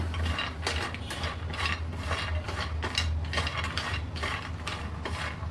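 Almonds dry-roasting in a hot pan on a gas stove give a steady, close rattle and scrape as the nuts are stirred and shaken, over a low, constant hum.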